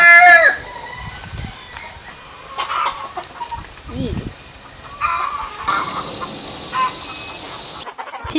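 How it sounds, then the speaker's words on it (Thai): Free-range chickens on a farm in the United States cluck and call in the background, with a crow-like call at the start, while someone talks over the birds near the coop behind the host's house. "ด้านหลังนี้คือไก่นะ คือแบบ โฮสเลี้ยงไก่เยอะมาก"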